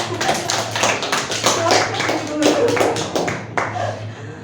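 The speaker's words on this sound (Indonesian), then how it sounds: "Ya, tepuk tangan untuk Dima." A group of about ten people claps hands for a classmate in a classroom role-play session, a steady patter of nearby claps with a constant low hum and some background voices.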